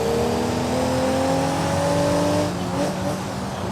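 Race car in a racing video game, its engine droning loudly and steadily with rising rev tones, then a drop in pitch as a gear change is fumbled, with no talk.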